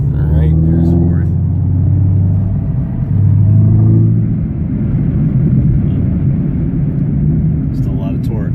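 A 2018 Chevrolet Camaro ZL1 accelerating through the gears, a loud deep rumbling engine with rising harmonic tones and a shift near the midpoint, heard from inside the car with people talking over it.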